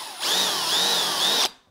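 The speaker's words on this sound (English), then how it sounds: "Still drilling." A power drill bores a hole while KTM 1290 Super Adventure crash bars are fitted, one sustained whining run of about a second with slight pitch wavering, fairly near, then it stops.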